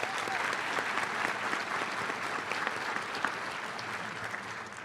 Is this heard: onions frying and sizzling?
no